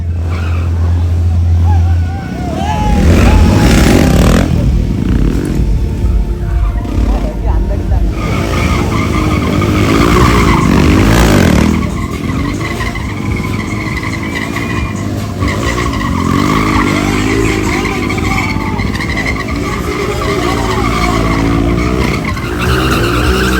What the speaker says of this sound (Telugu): ఇక్కడ ప్రొఫెషనల్స్ బైక్ స్టంట్స్ అయితే చేస్తున్నారు